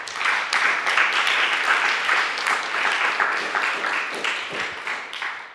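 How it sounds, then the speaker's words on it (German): An audience at a panel discussion on Europe breaks into sustained applause, dense clapping that holds steady for several seconds before thinning slightly at the end. "Einen herzlichen Applaus."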